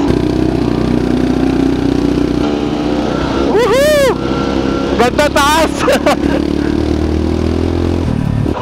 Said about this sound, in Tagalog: Parang hiningal yung motor ko dun ah.